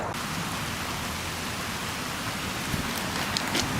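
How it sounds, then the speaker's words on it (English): Steady, dense rain falls in Cumberland beside the Grafton railway line, a continuous hiss of heavy drops with no voices. "Rain coming down here in Cumberland on the Grafton line"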